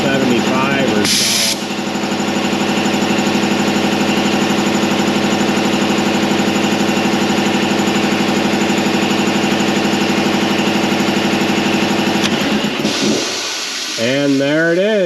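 A 10 HP Gardner Denver air compressor runs with a loud, steady mechanical drone and hum near 160 psi, then cuts off near the end as its automatic unloader releases air and a voice speaks over it.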